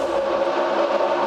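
NASCAR stock cars at a 2007 Nextel Cup race at Chicagoland, the USG Sheetrock 400, accelerating together off a green-flag restart, producing a steady loud engine roar that holds throughout with no break.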